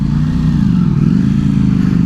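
A 2018 Ducati Panigale V4S with aftermarket exhaust pipes, a loud close-up throbbing engine note with a rapid pulsing rumble, holding steady under riding.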